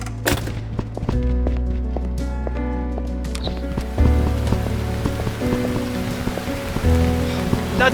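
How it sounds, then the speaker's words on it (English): Steady rain pours in the horror video game Burnhouse Lane, a continuous hiss of falling water with sustained eerie musical tones and low rumbles beneath it. "Bloody rain."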